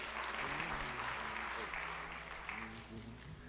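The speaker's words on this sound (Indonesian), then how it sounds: "Berikan tepuk tangan bagi nama Tuhan." A church congregation claps steadily at a worship service, a dense, continuous wash of applause with voices mixed in beneath it, gradually easing off near the end.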